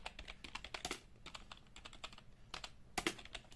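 Hindi typing practice on a computer keyboard at medium speed, with rapid, fairly even clacking keystrokes in uneven bursts, close and clear, with no talking.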